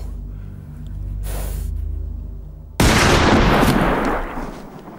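A sudden loud gunshot-like blast rings out with a long broadband tail, following a low droning hum, fired toward cows.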